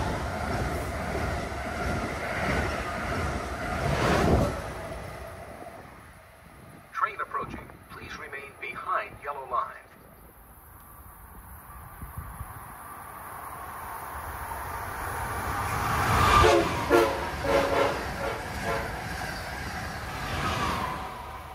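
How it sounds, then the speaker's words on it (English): Amtrak Regional and Acela high-speed trains pass a shoreline station in Madison, Connecticut, building to a loud rushing roar with rail clatter, fading briefly, then swelling again; a platform announcement voice is heard in between. "Train approaching. Please remain behind yellow line."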